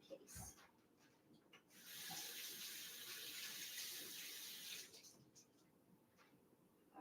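Leaves being washed under a running kitchen tap, a steady broadband water rush lasting a few seconds with quieter handling and rinsing sounds before and after.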